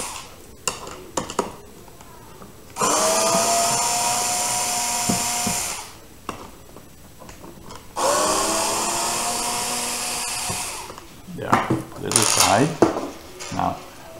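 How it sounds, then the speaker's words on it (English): Phillips head screwdriver backing out four screws from the bottom of a bucket during a pedal return spring replacement, with two long steady stretches of whirring driver noise separated by quieter clicks and handling sounds. "take the Phillips head screwdriver and remove the four screws that's at the bottom of the bucket"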